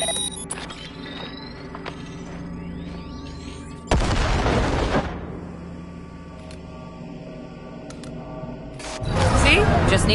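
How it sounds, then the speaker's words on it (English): A grenade going off in the Cyberpunk 2077 game: a sudden loud blast about midway, dying away over a second, set between quieter mechanical game sounds and a swell of noise near the end, with someone speaking. "Now, detonate the grenade."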